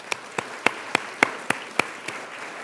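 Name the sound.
audience applause at awards event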